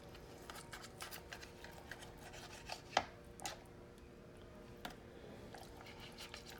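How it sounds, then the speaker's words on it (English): A knife cuts raw chicken into chunks for deep frying on a board, giving quiet, irregular taps and soft slicing scrapes with one sharper knock midway, close and faint. "I tend to cut my meat into about that size when deep frying"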